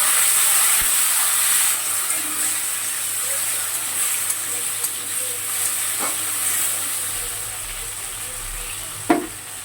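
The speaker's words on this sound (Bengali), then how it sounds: "দেখো আলুটা ভাজা ভাজা হয়ে গিয়েছে, লাল লাল হয়ে গিয়েছে" Salted, turmeric-coated potato pieces fry in oil in a pan, a soft continuous sizzle and hiss with a few faint clinks from stirring.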